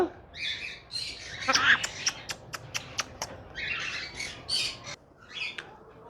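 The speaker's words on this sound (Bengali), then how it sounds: "এটা হচ্ছে রেড লর্ড অ্যামাজন প্যারট" A red-lored Amazon parrot gives a series of sharp squawks and a rapid run of short piercing calls, loud and close, with pauses between bursts.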